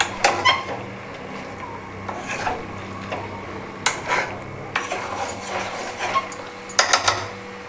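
Jackfruit being stirred and fried with spices in a metal pan, a spatula scraping and clanking against the pan in irregular bursts, with a low steady hum underneath.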